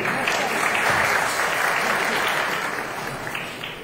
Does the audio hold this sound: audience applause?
yes